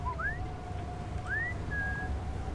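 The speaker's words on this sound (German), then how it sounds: "Das ist so geil mit den Pfeifen." Whistling in Splinter Cell Chaos Theory: a few short rising whistled notes, clear and moderately close, over a quiet low background hum.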